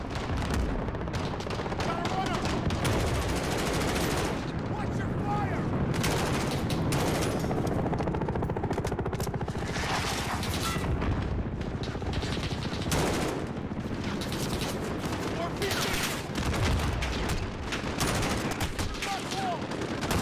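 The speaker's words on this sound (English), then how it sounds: "Stay out of the way of that MG. We don't want to get hit with that thing." Machine gun fire in Call of Duty: Modern Warfare rattles on in dense, rapid bursts for about twenty seconds, mixed with booms and a busy battlefield din, with voices talking underneath at times.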